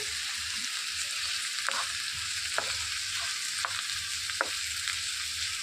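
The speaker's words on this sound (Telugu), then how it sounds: "ఉల్లిపాయలు బ్రౌన్ రంగు వచ్చే వరకు కూడా వేయించుకోవాలండి" Chopped onions and green chillies fry in oil in a pan, giving a steady, moderate sizzle broken by a few sharp scrapes of a spoon stirring at irregular intervals.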